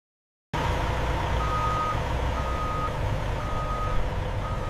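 A truck at a Coca-Cola factory loading area sounds a steady run of reversing beeps over a constant diesel rumble, fairly close and loud.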